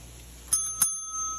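A small bell rung twice in a home kitchen, two bright clear dings about a third of a second apart, close and alone, the second ring lingering with a soft fading tone.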